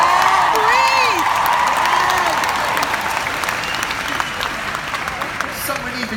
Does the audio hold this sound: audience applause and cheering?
yes